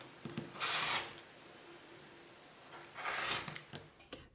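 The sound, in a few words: trimming quilt fabric with rotary cutter along ruler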